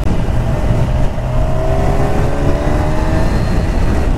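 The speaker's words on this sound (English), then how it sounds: "So smooth, this engine, it's lovely." 2023 Kawasaki Ninja 1000 SX engine while riding, a steady smooth drone with rising engine tones over constant wind rush, loud and close.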